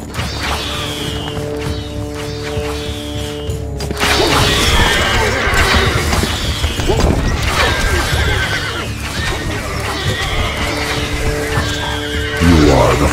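Horses in the medieval strategy game Stronghold Crusader whinny and neigh repeatedly over a busy battle din of clattering hooves, thuds and clashing. The calls are loud and close, with a sharp whinny at the end.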